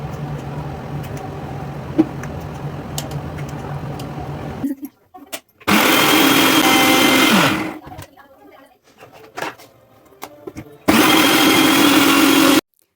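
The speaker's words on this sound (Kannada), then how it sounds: "ಸ್ವಲ್ಪ ಉಪ್ಪು ಸಹ ಹಾಕ್ಕೊಂಡು ಮಿಕ್ಸಿ ಜಾರಿಗೆ ರುಬ್ಕೋತಾ ಇದ್ದೀನಿ" A mixer grinder whirs loudly in two separate bursts while grinding a salted paste for paneer green peas gravy, with spoken talk before the first burst and quiet clatter between runs.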